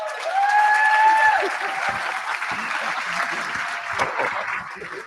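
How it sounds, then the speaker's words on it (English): Audience applause at the Elevate Phoenix Invitational 2022 live event as a crowd applauds the host: steady, dense clapping that holds loud for the full stretch and eases slightly toward the end. "Brad Perry, a round of applause."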